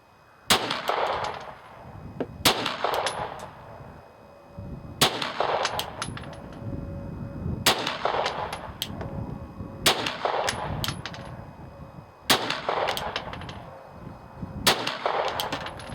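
A Ruger SR9 pistol fires about seven sharp shots at an outdoor range, each crack followed by a brief ringing echo, spaced irregularly roughly every two seconds with no talking.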